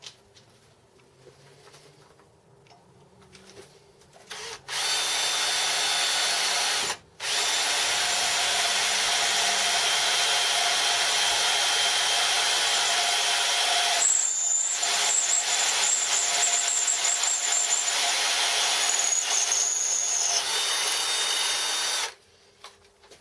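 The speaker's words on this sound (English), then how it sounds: "I'll drill this hole out" A drill press fitted with a 10mm drill bit countersinking a hole in a metal part for a homebuilt milling machine, a steady high whining spin running for long stretches with a brief stop and restart, close and loud.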